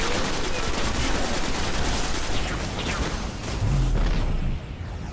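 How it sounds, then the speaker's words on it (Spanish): Grenade explosion in the video game Destiny, in the Black Garden: a dense, roaring wall of blast noise and gunfire fills the whole stretch, with a deep thump swelling near the end before easing off. "una granada"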